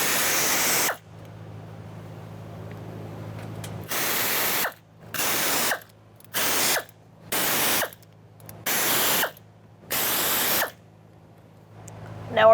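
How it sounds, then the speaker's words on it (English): A pneumatic air tool removes the fuel pump assembly bolts on a 2002-2006 Toyota Camry, buzzing close and loud in one long burst followed by six short, evenly spaced bursts with quiet gaps between. "I'm using my air tool."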